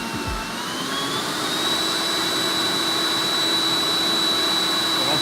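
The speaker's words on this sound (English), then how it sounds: "we're just going to do it on the top power and then the boost mode" A Stihl handheld leaf blower runs at its top power setting with a loud, steady jet-like roar and a high whine that rises slightly as it spins up, then holds constant up close.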